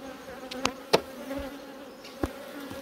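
Honey bees buzzing around an open beehive, a steady close drone with a few individual bees zipping loudly past, no voices.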